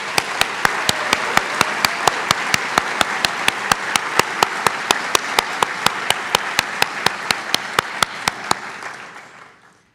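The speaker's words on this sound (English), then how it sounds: "So let's have a round of applause for all of our students." An audience at a University of Rhode Island College of Nursing white coat ceremony applauds in a full, continuous roar of clapping, with a steady regular beat of sharp claps running through it before it fades out.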